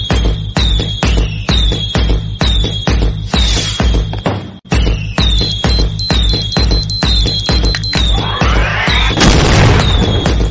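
Diwali firecrackers explode one after another at close range, with loud sharp bangs about every half second. A crackling burst near the end sounds over the steady run of blasts.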